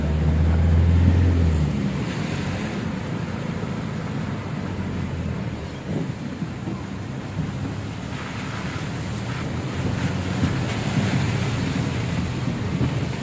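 Cold wind blows hard in rainy-season Tagaytay, a steady loud roar buffeting the microphone with gusty surges and no voices.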